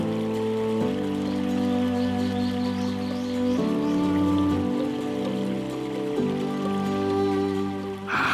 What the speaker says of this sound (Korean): 아무리 가물어도 사철 흐르는 물소리가 끊이지 않는 곳